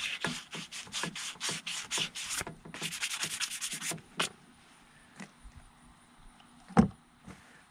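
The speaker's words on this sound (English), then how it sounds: "sand all the rough edges down" Plastic plumbing pipe has its rough edges sanded by hand before gluing. Fast rhythmic rubbing strokes come close and loud in two runs, then a few scattered scrapes and a sharp knock in a quiet room.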